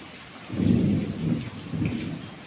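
Heavy rain pouring down with a low rumble of thunder rolling through it, fairly close and continuous.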